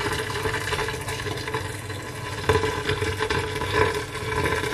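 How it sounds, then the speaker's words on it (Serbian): A full kettle of hot water pours steadily into a kitchen sink drain, a continuous splashing, gurgling rush held at an even level for several seconds, with no voices. "I za početak je potrebno da sipate jedan ketler vruće vode"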